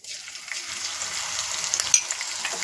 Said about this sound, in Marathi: आता जिरं फुललेलं आहे याच्यामध्ये आपण ही एवढी मिरची टाकत आहोत